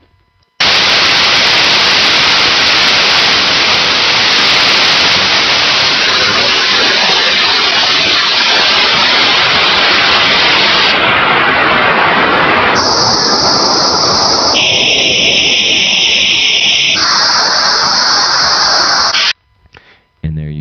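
Loud, constant white noise hisses throughout, then takes on a hollow, phasey coloration as sweeping notches shift its tone before it cuts off abruptly.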